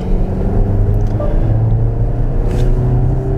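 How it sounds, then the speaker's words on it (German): VW Tiguan Life 1.5 eTSI 96 kW petrol SUV pulling away in sport mode at the edge of a village, a steady loud engine drone with low rumble heard from inside the cabin, no talk. "Ich habe den Wagen jetzt mal hier auf Sport gestellt, die Ortschaft endet, wir geben jetzt mal hier ein bisschen Gas."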